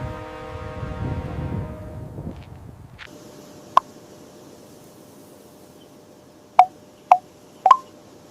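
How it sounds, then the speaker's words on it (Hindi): Telephone keypad tones sound after a fading hum: one short beep, then a pause, then three more quick beeps close together. The beeps are clear and sharp over a quiet background. "मेरा मैं अभी एसपी साहब को फोन करता हूँ।"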